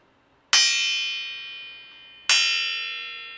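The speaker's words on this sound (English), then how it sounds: "the car spring looks like this. And this is the sound it makes" Two sharp metallic strikes on a car suspension spring played as percussion, about two seconds apart, each ringing out with a long, bright, bell-like shimmer that slowly decays.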